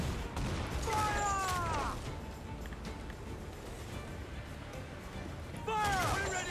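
Game gunfire in two bursts, near the start and again near the end, with dense rumble and ringing tones between, while a voice shouts over the battle noise.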